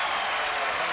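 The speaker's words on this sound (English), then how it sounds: "hold the applause for this" Game show studio audience applauding in a dense, even burst of clapping, loud and continuous for a moment with no voices over it.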